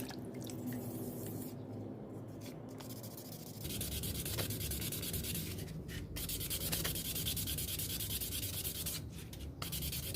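Steady close-up rubbing of fine 2000-grit sandpaper worked by hand over a smooth surface on a handmade wooden souvenir, a continuous dry scraping that grows slightly louder partway through, with brief pauses between strokes and no talking.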